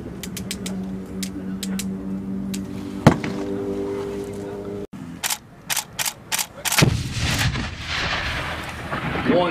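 A fragmentation grenade blows up during US Marines live training: one heavy, booming blast lands against a low rumbling background, followed by a string of sharp rifle shots and another deep thump, all outdoors at some distance.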